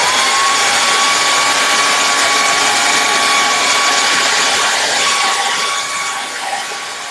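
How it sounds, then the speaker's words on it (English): A hairdryer runs at high speed close by, a loud, steady whooshing whine with a constant tonal hum that eases slightly at the end. "we're going warp speed ahead here with the hairdryer"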